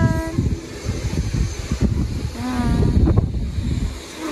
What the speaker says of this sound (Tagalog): Nag-shake siya. Mahangin. At maulan.